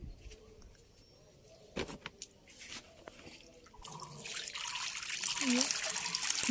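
Tap water pours into a container on a sunny rooftop, starting as scattered knocks and drips, then swelling into a steady, loud hissing rush as the flow fills it.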